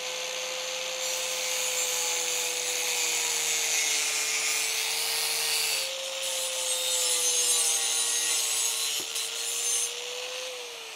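An angle grinder with a cutting disc cuts through metal, a loud, sustained high-pitched whine and grinding hiss that holds steady, dips briefly and then resumes.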